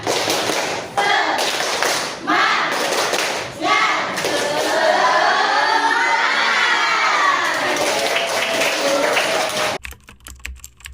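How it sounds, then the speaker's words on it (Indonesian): A classroom of schoolchildren does a rhythmic spirit clap, patterned claps at first, then loud excited shouting and chanting voices that fill the room before cutting off abruptly. "mari kita tepuk semangat terlebih dahulu ya"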